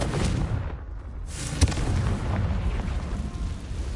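Confringo blasting spell in Hogwarts Legacy, a dense rumbling explosion with a sharp crack partway through, loud and sustained with heavy low-end roar.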